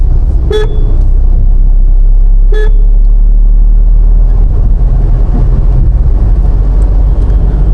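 A family car travels along a road from Kolkata toward Massanjore, with a steady loud engine and road rumble throughout and two short horn toots early on.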